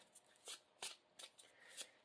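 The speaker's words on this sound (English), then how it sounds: "We will shuffle our obligation into the encounter deck." Playing cards riffle-shuffled into an encounter deck during a Marvel Champions card game, several quick crisp bursts in a row, close and fairly quiet, with no talking.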